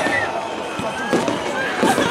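Fireworks over the Riva in Split at a celebration for Generals Gotovina and Markač crackle and thud in a dense, continuous volley over a cheering crowd.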